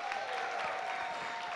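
Audience applause for nominees at a women's honour gala in Mwali, a dense, steady wash of clapping from a large crowd holding even for the whole stretch.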